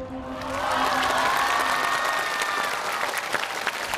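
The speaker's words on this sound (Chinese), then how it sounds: "我们从欢呼声也能听得出来黄华戴金旺的实力。" A studio audience at a televised Chinese place-name quiz show bursts into sustained applause mixed with cheering, loud and continuous for about four seconds with a few whoops rising above the clapping.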